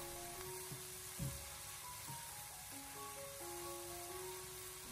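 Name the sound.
stir-frying doubanjiang bean paste in oil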